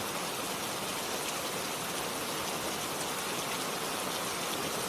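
Steady rain on a rainy day, a dense, even hiss of falling drops that holds constant and fairly soft throughout, with no voices.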